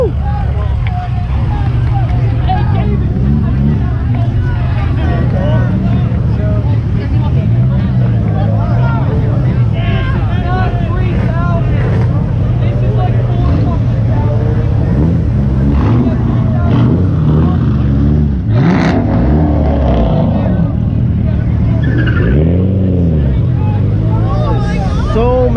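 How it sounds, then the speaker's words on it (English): Cars do burnouts at a crowded car meet, and engines roar and rev loudly and continuously under a packed crowd's shouting and chatter, with people talking nearby throughout. "they're doing burnouts"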